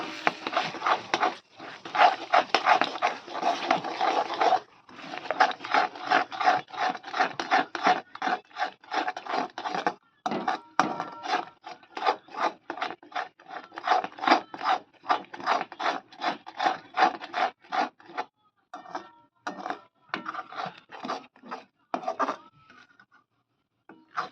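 Beaten eggs and salt are whisked in a bowl for egg bhurji, making rapid, rhythmic scraping strokes that come close and clear, with brief pauses, and no talking.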